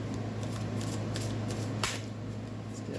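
A deck of tarot cards is shuffled by hand, giving soft, quick papery riffling and flicks at a fairly quiet level, with one sharper snap midway.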